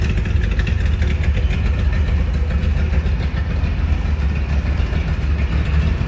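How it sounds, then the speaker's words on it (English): A 1969 Corvette L46 350 hp engine idling through dual exhaust with a deep, steady rumble, close and continuous without changes in revs. "really nice sounding dual exhaust."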